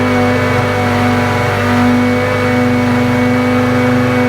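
A soy milk maker's grinder runs at high speed, a loud, steady, close mechanical whine with a strong sustained hum throughout, grinding soybeans and water without a break and with no voices.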